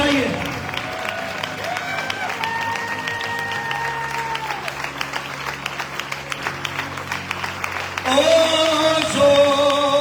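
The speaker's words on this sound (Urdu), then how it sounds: "وہیں پر اس کے لیے تالیاں بجائیے" A church congregation applauds, a dense patter of clapping that keeps going under sustained music, which grows louder toward the end.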